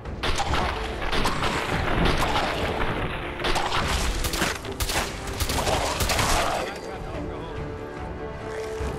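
Gunfire shooting a leg off in the video game Fallout 4, with dense bursts of loud shots and booming impacts in quick succession, a voice talking over the din.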